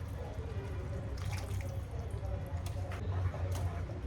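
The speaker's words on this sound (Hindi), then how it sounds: "अभी इसमें पानी थोड़ा डाल सकते हैं तो मैं डालती हूँ" Water is poured into a pot of cooking vegetables, a soft continuous splashing trickle with a low background rumble, quiet and fairly close.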